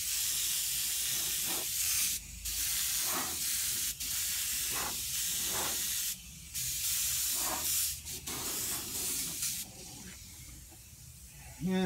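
An airbrush spraying paint over a poster board stencil, in short hissing bursts separated by brief pauses, close and fairly loud.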